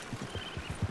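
Horse hooves clip-clopping in a video game, a steady run of about six muffled low thuds spread across one second, close and fairly loud, with no talking.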